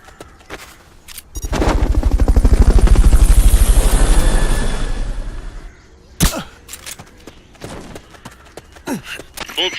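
A rotor-chopping Fulton recovery helicopter from Metal Gear Solid Peace Walker HD surges up loud and close, holds for a few seconds, then drops off, followed by scattered sharp game effects.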